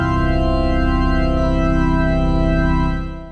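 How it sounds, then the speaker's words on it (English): A sustained chord is played: a complete triad of root, third and fifth with a suspended fourth added on top. It holds steady and full for about three seconds, then fades out. No voices are heard. "Writing a complete triad with a root, 3rd, and 5th, and then adding a 4-3 suspension on top of that."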